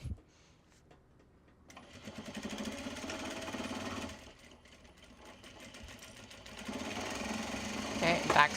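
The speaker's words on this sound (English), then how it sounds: "let's actually sew from that way, because then we can just front stitch and back stitch at the opening" A sewing machine stitches a traveler sling bag in bursts: a quiet start, a run of rapid mechanical whirring, a short pause, then a longer, louder stitching run.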